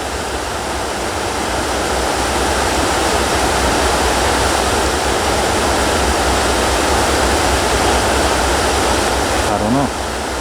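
A river flowing, a dense, loud, steady rush of water that fills the whole clip without letup, close and unbroken, with a faint brief rising tone near the end.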